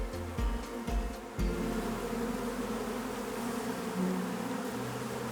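Honey bees from a queenless colony buzz steadily during a hive removal, a dense, continuous drone close by, with a few soft knocks near the start.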